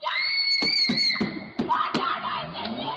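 A woman screams during an attack, recorded by a camera: a loud, high, sustained shriek for over a second, followed by sharp broken cries amid rough background noise.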